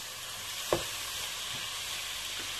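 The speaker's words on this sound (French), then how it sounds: "Et je vais rajouter une tomate. Je vais mélanger le tout." Quinoa and vegetables with tomato frying in a pan, a dense continuous sizzle with a single soft knock of a spoon as the mixture is stirred.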